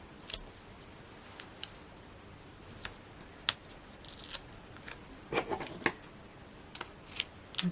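Scissors snip through card in short, crisp cuts, scattered singly and in quick pairs across a quiet background with light rustling between.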